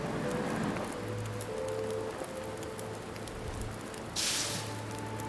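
Steady windy ambience in the snowy survival game The Long Dark, a constant broad whooshing rush with low hum, swelling briefly into a brighter hiss near the end.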